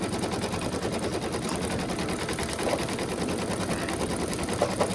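An embroidery machine stitches a design in the hoop with a continuous rapid mechanical rattle, steady and close throughout, with no one talking.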